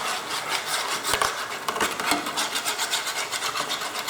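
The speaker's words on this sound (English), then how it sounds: "Try and scrape them off the bottom." Metal utensil scraping browned bits of garlic and oregano off the bottom of a roasting pan after roasting Mediterranean herb lamb, a steady rough rasping with repeated strokes, close and fairly loud, no talking.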